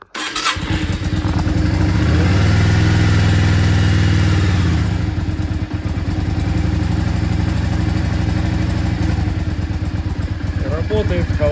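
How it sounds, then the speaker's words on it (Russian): A Yamaha Drag Star XVS400 Classic motorcycle engine starts and settles into a steady, loud idle with even, rapid firing pulses, heard up close throughout. "Работает, холостые обороты держит, все замечательно."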